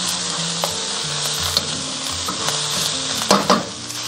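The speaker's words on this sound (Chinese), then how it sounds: "我们再把排骨放下去，再炒个2分钟" Pickled cabbage and pork ribs are stir-fried in a wok, with a loud, steady sizzle throughout and a cluster of clattering scrapes from the spatula near the end.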